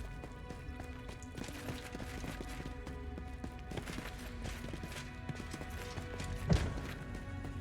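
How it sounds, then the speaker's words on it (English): Footsteps in the fantasy role-playing game Pathfinder: Kingmaker tap out a steady, repetitive clopping rhythm, faint and close, over a low ambient bed with no talking. "This footstep sound is driving me crazy."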